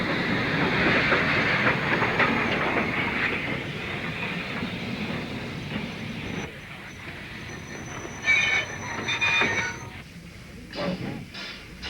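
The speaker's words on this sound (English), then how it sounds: "A typical locomotive of the line, the Terrier, was used on the railway for many years" A steam train rumbles and clatters along the rails, loud at first and then easing, with squealing metallic tones later and a voice speaking over it.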